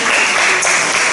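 Church congregation applauding after a closing prayer at a Sunday service, a loud continuous wash of many hands clapping with no break through the brief moment.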